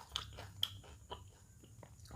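Biting into crispy fried chicken skin (ayam penyet) during a meal: a few sharp crunchy bites spaced apart, with quieter chewing crackles between them, close and fairly soft.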